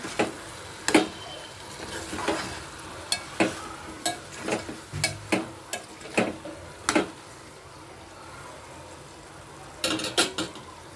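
Brinjal and potato pieces fry in oil with onion and tomato while a spatula stirs them, producing a string of sharp clanks and scrapes against the pan over a soft sizzle, pausing midway before a final burst.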